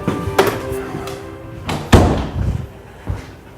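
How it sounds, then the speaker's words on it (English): A dog crate door is swung shut and latched, producing a few separate metallic thumps and clanks, the loudest slam near the middle, close and fairly loud with no talking. "Let me close this door here."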